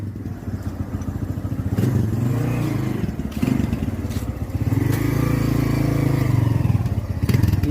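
Honda XRM 125 motorcycle engine running after a refresh, a close, loud idling putter with a few revs swelling and dropping, plus some metallic clatter around it.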